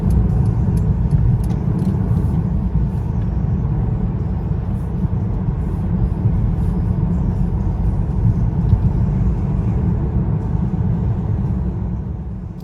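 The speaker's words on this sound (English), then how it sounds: "Now driving in the AMG A35, that was a mild acceleration." Mercedes-AMG A35 4Matic sedan, 2021, heard from inside under mild acceleration with brief wheel spin, a continuous low engine and road rumble, steady and moderately loud throughout.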